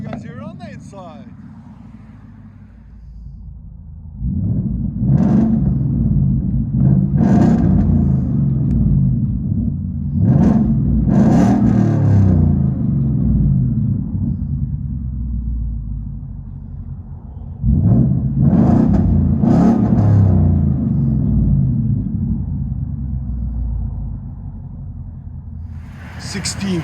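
2016 Ford F-150 with 5.0 V8 and true dual exhaust with 6-inch tips, heard from inside the cab: a low, steady rumble that swells with a couple of revs, with people talking over it.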